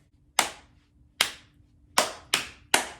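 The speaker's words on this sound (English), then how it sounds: "we get to do 5 claps in a row" Five sharp hand claps ring out one after another in a quiet room, the first three evenly spaced and the last two slightly quicker, each with a brief decay.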